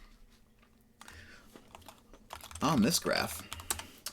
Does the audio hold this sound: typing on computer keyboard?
yes